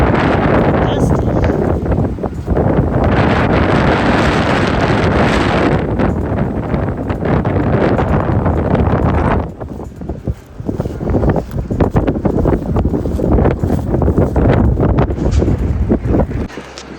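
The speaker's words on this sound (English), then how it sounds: "Very windy." Strong gusts of wind, around 50 to 60 mph, blow across a dusty horse ranch, roaring and buffeting loudly and continuously with a brief lull partway through.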